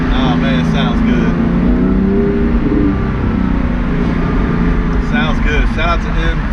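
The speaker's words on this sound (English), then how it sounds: "it makes you want to drive fast so you can hear the exhaust" A Porsche 911 GT3 fitted with an MBRP race exhaust drives along, its loud, raspy exhaust note droning and revving close by, with brief voice fragments over it.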